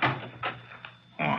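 A door opens in a short sequence of close, muffled knocks and creaks, ending in a louder thud or latch sound in a quiet room.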